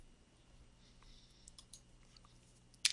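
Code being typed on a computer keyboard, heard as faint, sparse key clicks over a quiet room hum, ending in a brief louder burst of noise.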